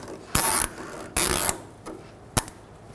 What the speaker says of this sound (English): take a nice thick wire tie and secure this brake hose tight